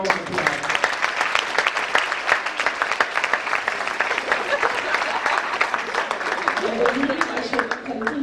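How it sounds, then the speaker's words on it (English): Sustained audience applause at the St. Maarten Academy graduation ceremony, a steady dense clapping from a sizeable crowd with some voices mixed in underneath. "Give him another round of applause."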